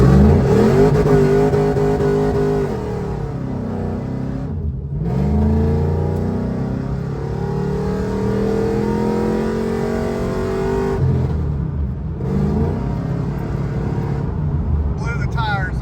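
A car launches hard from a standstill, its engine roaring through rising revs with brief drops between gears, loud and close throughout, with tire noise mixed in and voices talking over it.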